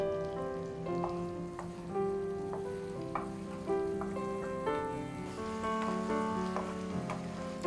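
Pears caramelize with honey in a pan, a soft, steady sizzle with light bubbling crackles, heard beneath gentle tonal background music.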